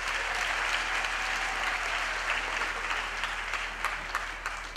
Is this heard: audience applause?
yes